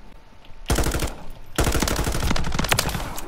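Rapid automatic M13C rifle fire in a video game, two long bursts of dense, sharp shots, the second longer and sustained, loud and close with no speech over it.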